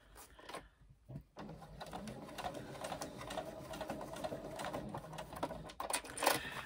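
A home sewing machine stitches a garment seam in a fast, steady mechanical whir, close and continuous after a brief pause near the start, with small clicks between bursts.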